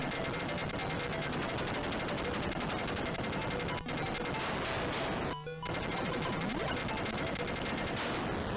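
Enemy plane gunfire in the Atari 8-bit shooter Screaming Wings, a harsh, steady stream of rapid chiptune shots rattling without pause over noisy game audio, with a couple of brief dropouts.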